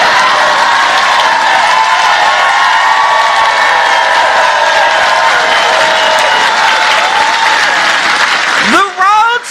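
A large crowd at a Georgia rally for Vice President Kamala Harris on abortion rights claps and cheers loudly and continuously, with shouting voices mixed into the dense applause before a brief dip at the end.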